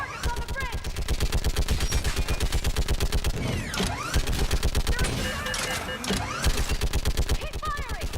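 Rapid sustained automatic gunfire from Mass Effect 3 fires in dense bursts throughout a battle on a bridge, loud and close, with short pauses and a voice shouting over the shooting.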